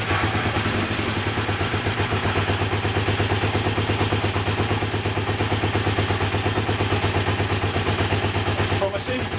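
Honda CB250N motorcycle engine running steadily after starting, a loud continuous low throb with rapid regular firing pulses and mechanical clatter throughout, close up.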